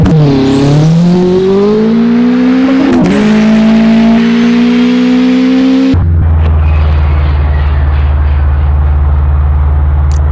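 A Ferrari's engine in a driving video game revs loudly and steadily, its pitch rising and then holding. Partway through, it drops abruptly to a lower, droning rumble.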